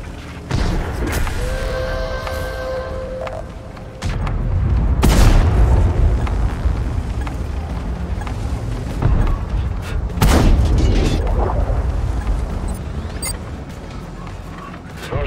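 Tank gun shots and explosions in World of Tanks: heavy booms land near the start, around five seconds and around ten seconds, among mechanical creaks and a rumbling battle ambience, with no voices.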